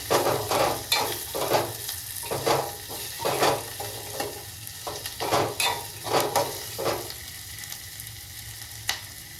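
Coconut and cashews fry in hot oil for an eggplant curry, crackling steadily with repeated stirring and scraping strokes at a regular rhythm, close and clear with no voices.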